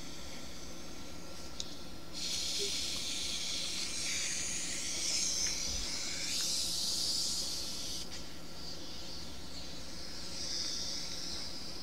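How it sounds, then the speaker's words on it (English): Fizzing hiss of a freshly opened 2-liter soda bottle, a steady close rush of escaping gas that swells and ebbs for several seconds with no talking. "I opened a bottle of a 2-liter."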